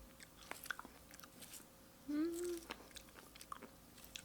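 Close, quiet, soft chewing and biting of octopus sushi with wasabi, with a brief hummed murmur midway.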